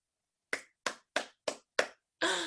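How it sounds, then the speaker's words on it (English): Five sharp, evenly timed hand claps ring out during a baby signing class, clean and close with silence between them, followed by a brief burst of voice. "Come and do some clapping"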